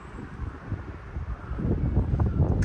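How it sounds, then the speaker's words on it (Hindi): Cold mountain wind blows steadily at Sonmarg in Kashmir, a continuous rumbling gust against the microphone that builds louder toward the end. "ठंडी हवा चल रही है"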